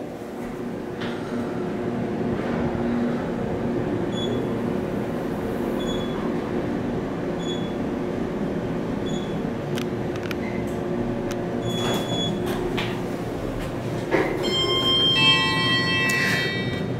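A KONE traction elevator at a Kissimmee resort hums and rumbles steadily as it travels between floors, with faint clicks and a few brief high chimes over the continuous low drone.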